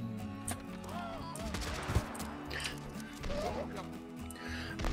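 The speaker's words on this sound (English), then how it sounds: "Man, those fireworks." Firework archers in the video game TABS, set in the Wild West, loose a rapid crackling volley of pops and bangs with whistling bursts, while someone talks over the din throughout.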